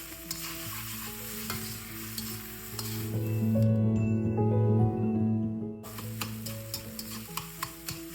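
A utensil stirs and folds rice coated with egg in a frying pan, rhythmic scraping with a steady sizzle that swells in the middle, close and clear, with no talking.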